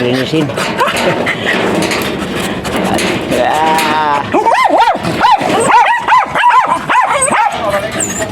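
A dog yips and barks several times in quick bursts, close and loud, mixed with whimpering and people talking over it.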